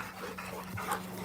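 A Rottweiler, an athletic working dog, pants softly in quick, rhythmic breaths close by outdoors in a yard, a faint whimpery edge slipping in near the end.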